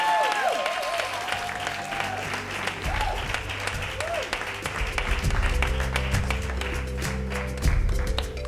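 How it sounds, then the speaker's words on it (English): A large crowd applauds at an awards gala in 2018, with loud sustained clapping and a murmur of voices and cheering that carries on for several seconds. "let's get a big round of applause going all the way until they are on stage"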